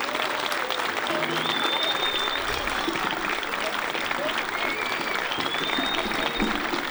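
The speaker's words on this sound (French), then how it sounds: "Vous pouvez encore applaudir très fort" An audience applauds a school orchestra at a concert in Martillac, loud sustained clapping throughout, with voices and a few cheers or whistles mixed in.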